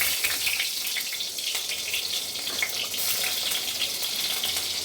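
Garlic, followed by dried red chillies, hits hot oil and fries before greens are added, producing a loud, dense, even sizzle that stays constant throughout with no speech.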